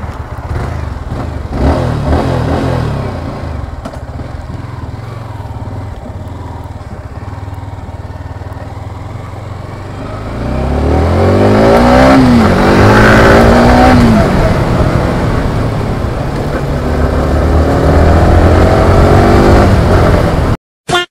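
A new Yamaha R15 V4 motorcycle engine idles with a low steady burble, then starts revving loudly about halfway through, rising and falling in sharp pitch sweeps before settling into a strong, continuous high idle close by.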